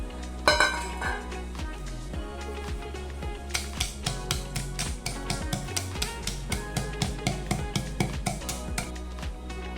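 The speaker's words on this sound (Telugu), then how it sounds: "ఇప్పుడు ఒక రోల్ తీసుకొని ఇందులోకి పల్లీలు వేసి దంచుకోవాలి." Peanuts pounded in a stone mortar make a run of sharp, rhythmic thuds, near and regular, that speed up and grow louder through the second half.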